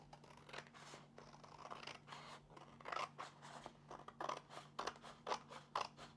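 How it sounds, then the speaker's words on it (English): Scissors snip off extra fabric in a rapid series of close, crisp cuts, about a dozen strokes in an uneven rhythm over a steady low hum, with no speech. "cut off the extra."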